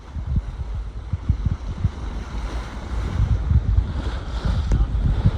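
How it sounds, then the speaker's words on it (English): Sailboat bow pushing through choppy, confused seas off Eleuthera, with waves slapping and surging against the hull in irregular bursts under a steady rush of wind noise, loud and close. "these are really confused seas right here"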